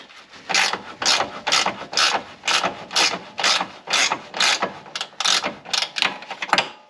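A ratchet wrench loosens the 16mm and 18mm bolts on a Porsche 996/997/986/987 front suspension arm. About a dozen quick, evenly spaced ratcheting strokes ring out close and clear with no talking.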